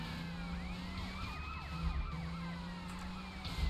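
Grand Theft Auto Vice City video game police car siren wailing steadily over game engine and traffic rumble, loud and continuous with sweeping rising and falling tones, no talking.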